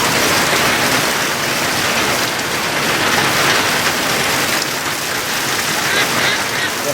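Heavy cloudburst pouring down near a barn with ducks, a dense, loud, steady hiss of rain drumming on surfaces that holds without letup for several seconds.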